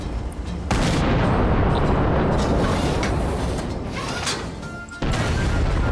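IS-4 heavy tank gun firing high-explosive shells in World of Tanks, heard as loud, close booming blasts that open and close the stretch, with a sustained rumbling roar between them.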